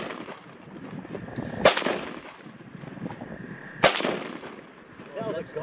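Two sharp rifle shots from a custom AR in .450 Bushmaster, about two seconds apart, loud and close against faint outdoor background noise.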